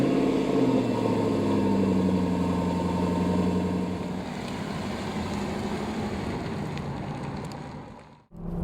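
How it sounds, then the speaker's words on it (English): A Jaguar XKR Coupe with a 510-horsepower engine cruises at 25 mph, giving a steady low engine drone with road and wind noise. The sound stays fairly level, then briefly dips near the end. "Cruising at 25 miles an hour, XKR Coupe. Here's 510 horsepower."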